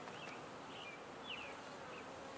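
Bees buzz steadily at a low volume around a hive during light rain, a soft droning hum with a few higher whining passes as individual insects fly close.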